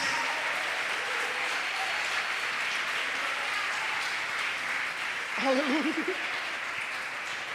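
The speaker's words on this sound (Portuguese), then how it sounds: "Erga suas mãos e aplauda aquele que vive" Congregation at a Portuguese-language church service clapping in steady, broad applause throughout, with a singing voice rising briefly near the end.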